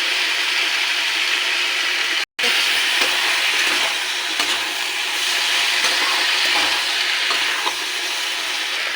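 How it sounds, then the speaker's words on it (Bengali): Fish curry with ginger, tomato paste, chili and cumin powder sautéing in a pan, giving a loud steady sizzle and fry that runs almost without a break throughout. "এবার এটাকে ভালো করে কষিয়ে নেব। দিয়ে দেবো জিরের গুঁড়ো।"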